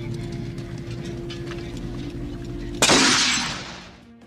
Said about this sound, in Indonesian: Fliora berkali-kali menembaki foto Hitler untuk melampiaskan amarahnya